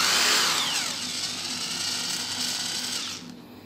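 An iBELL IBL SD10-85/86 electric screwdriver spins up with its trigger pressed, a close high motor whine that rises in pitch with speed, then winds down at the end.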